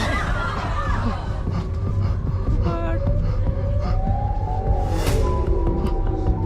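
A wavering Siren Head siren wail in a video game rises and falls over a heavy, constant low rumble, with a few faint, indistinct sounds mixed in.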